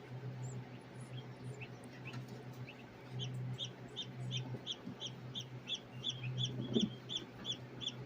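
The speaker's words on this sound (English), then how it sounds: "you just heard the little yellow turkey start to chirp" Newly hatching baby turkey chicks give a run of soft, high, evenly spaced peeping chirps, faint and close, over a quiet low background hum.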